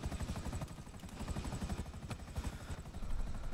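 Helicopter in a video game roleplay, a steady pulsing rotor chop with low engine rumble, fairly close and continuous throughout.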